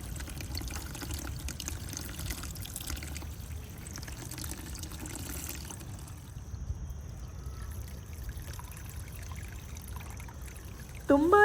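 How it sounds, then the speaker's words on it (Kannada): Water poured over a banana leaf onto red garden soil topped with sand makes a continuous soft trickle at moderate distance, heard alone until a brief louder sound at the end. "ಅದರಿಂದ ಬಾಳೆ ಎಲೆ ಇಟ್ಬಿಟ್ಟು ಇದ್ರ ಮೇಲ್ಗಡೆಯಿಂದ ನೀರು ಹಾಕ್ತೀನಿ."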